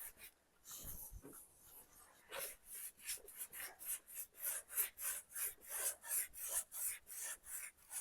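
Dark wax is rubbed onto a painted artwork with a rhythmic scrubbing: quiet, close brushing strokes that settle into a steady back-and-forth rasp, each stroke distinct and repeating.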